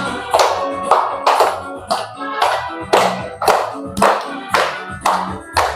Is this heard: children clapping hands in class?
yes